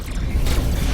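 A target ship blows up in the space combat game Rebel Galaxy, a short, dense, booming burst with a rough, grinding texture that holds at a steady, loud level for under a second.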